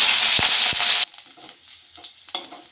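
Garlic and curry leaves hit hot oil with cumin, a loud bright sizzle with two quick knocks that drops abruptly to a quieter crackle and light stirring.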